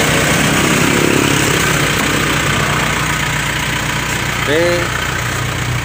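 A car engine idles steadily at close range, a low continuous rumble with a brief voice near the end before it is shut off.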